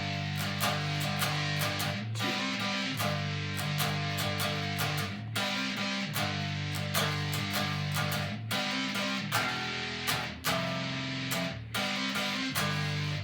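A distorted rock song riff, played three times through before the first ending, plays loud and continuous with steady drums and driving guitar, no voices over it.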